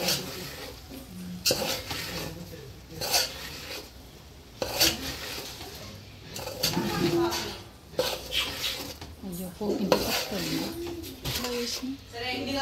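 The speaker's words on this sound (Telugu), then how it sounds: "ఫస్ట్ కొన్ని అటుకులు వేసి కలుపుకోవాలి" Flattened rice (poha) being stirred with potatoes in a pan for aloo poha, heard as repeated scraping and clinking of a spoon against the pan in bursts, with a voice talking over it.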